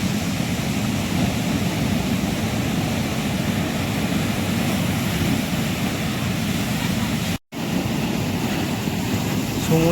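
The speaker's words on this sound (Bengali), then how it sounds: "সমুদ্রে এসে এই যে ঢেউ ভাঙার শব্দগুলো এত ভালো লাগে" Sea waves break over boulders on Digha beach in a continuous loud roar of surf and wind buffeting the microphone, with one brief dropout near the end.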